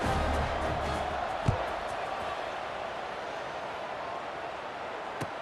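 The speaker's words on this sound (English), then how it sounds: "this crowd is buzzing after that last score" A stadium crowd buzzes with a broad, steady roar in the EA Sports College Football 26 video game, with a couple of brief thumps.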